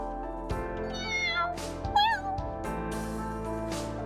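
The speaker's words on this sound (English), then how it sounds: "A terrified little kitten peeked out from under the sofa" A kitten meows several times in the video game Aether Gazer, its thin, high cries rising and falling over a steady soft game soundtrack, close and clear with no talk.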